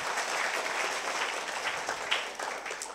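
Audience applause fills the room as a steady, dense wash of many hands clapping, fairly close and sustained for the whole stretch with no voices on top.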